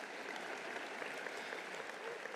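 Audience applause at a university summer commencement ceremony, a steady wash of clapping from many hands, fairly soft and distant.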